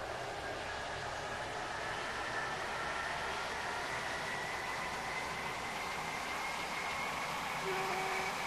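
A Roblox Stepford County Railway train runs toward a station with a quiet, steady rumble and hiss, a faint whine rising near the end, and no talk.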